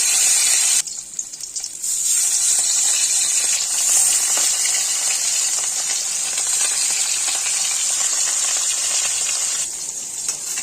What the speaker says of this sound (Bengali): তেল গরম হয়ে গেছে এখন মাছগুলো এক এক করে ছেড়ে দিচ্ছি